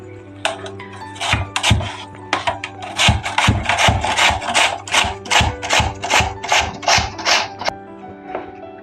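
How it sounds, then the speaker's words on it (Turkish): Peeled potatoes are rubbed by hand over a grater, giving loud, rhythmic rasping strokes about once per second, close up with a low steady hum beneath. "Bunları önce rendeleyip suya koyacağım"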